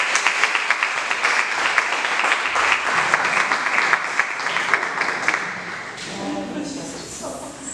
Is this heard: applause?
yes